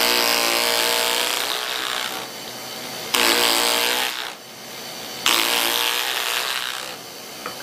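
An electric chisel carves wood in three bursts of buzzing, scraping power-tool noise, each lasting a couple of seconds with short pauses between, loud and close with no talking.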